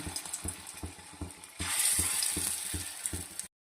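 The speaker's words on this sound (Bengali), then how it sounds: "তেলটা গরম হয়ে গেছে, তাই আমি একটু একটু করে এখন একটু বড় সাইজের করে বড়াগুলো ছেড়ে দিচ্ছি" Large lentil fritters (bora) being dropped into hot oil: a soft rhythmic ticking at first, then a louder, bright, steady sizzle of deep frying that cuts off abruptly.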